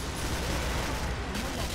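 Gunfire in the video game Killing Floor comes as a dense, continuous barrage, loud and steady throughout the brief moment, with a voice partly mixed in.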